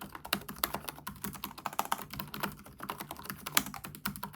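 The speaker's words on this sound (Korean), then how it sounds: "시끄럽지도 않고 조용하지도 않고 그냥 누를 때마다 약간 볼록하게 걸리는 타이핑을 보여줍니다" Typing on the keyboard of an ASUS Vivobook Pro 15 OLED laptop, a fast irregular run of light, moderately loud key clicks, close up and without voices.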